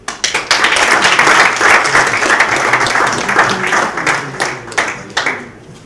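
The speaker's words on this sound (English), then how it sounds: "another round of applause, please, to Jackson" An audience at a transitional justice policy symposium applauds a speaker, a loud, close burst of many hands clapping that swells quickly, holds for several seconds, then thins out into scattered claps.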